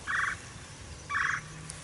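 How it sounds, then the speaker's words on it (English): A wild turkey gobbler in spring woodland gobbles twice, each rolling burst about a second apart, sounding distant over a quiet outdoor background. "Was another one gobbling way off over there."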